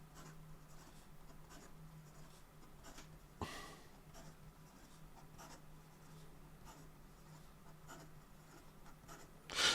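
A fountain pen nib scratches quickly across paper in a steady run of soft, close strokes with brief pauses, alone and quiet.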